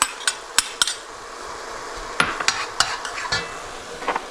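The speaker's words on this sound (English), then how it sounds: "We're going to go ahead and add our onions." Half a white onion added to wild turkey chili in a hot pan, with a steady low sizzle under a series of sharp, close spoon taps and scrapes against the pan, spaced irregularly.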